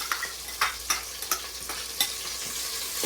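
Paste is stirred into Godavari-style fish curry frying in a pan, a constant hissing sizzle punctuated by about half a dozen quick scraping strokes of the spoon, close and fairly quiet.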